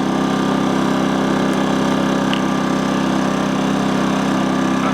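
A Hyundai P2500i 2000-watt inverter generator engine runs in economy mode at a steady, even drone, close by and fairly loud, with no talking.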